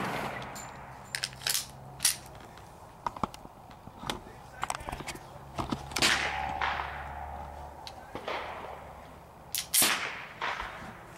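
A Kimber Micro 9 pistol fires cheap aluminum-cased reloads in an irregular string of sharp, close cracks, some ringing with a metallic clang, spread over about eleven seconds with quiet gaps between.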